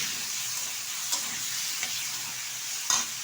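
Ginger-garlic spice paste sautés in a wok with a quiet steady sizzle, broken by a few sharp scrapes of a stirring spatula.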